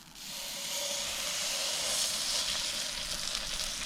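Trout frying in a pan over a campfire, a steady close hiss and sizzle that swells quickly and holds evenly throughout with no talking.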